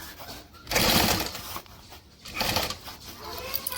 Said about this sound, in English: let's go ahead and baste this on with 1/4 of an inch seam allowance